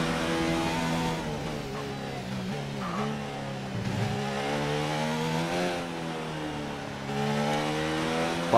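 Red Bull RB15 Formula 1 car engine in the F1 2019 racing game at the Russian Grand Prix, a steady high-pitched whine that rises and falls through gear changes, loud and continuous with no talk.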